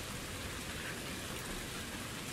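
Steady rain falling in the video game Ultimate Fishing Simulator on its New Zealand map, a constant broadband hiss of drops on a surface, uniform and unbroken with no voices.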